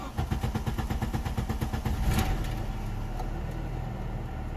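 Mk3 car engine after a crank sensor replacement, cranking with a quick rhythmic churn of the starter, then catching and settling into a steady close idle.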